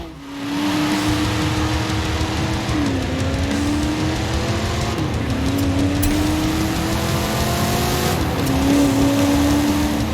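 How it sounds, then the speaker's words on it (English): A classic Holden Monaro muscle car in the Forza Horizon 5 racing game, its engine droning steadily and loud, with rising and falling gear-change pitch sweeps as it accelerates, no voices. "This is the Holden Monaro, Australia's finest"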